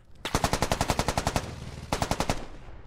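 A machine gun fires in the tactical shooter game Squad, loud and close. A rapid burst of about fifteen evenly spaced shots comes first, then a short pause and a second burst of about six rounds.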